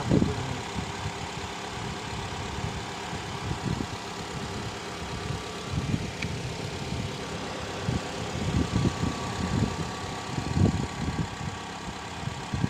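A car engine idles smoothly after a jump start, a low steady rumble with soft irregular pulses, moderately quiet and close, no talking.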